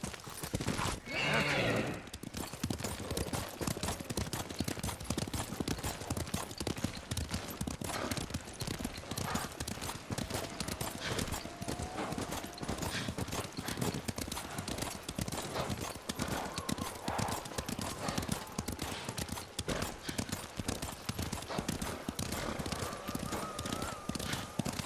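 Horses gallop in a samurai-era video game, a dense, continuous clatter of hoofbeats at a quick rhythm, with a horse neighing near the start and steady rushing movement throughout.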